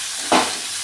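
Grated coconut stirred briefly in a hot pan for drumstick-leaf chutney, one short soft sizzling swish rising above a steady faint background hiss, close and brief with no voices.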